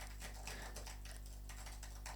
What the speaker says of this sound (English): I'm just going to set this keyboard on my lap, type a little bit